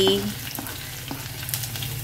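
Green chili and ginger frying in hot oil in a pan give a steady, close sizzle with small crackles and pops.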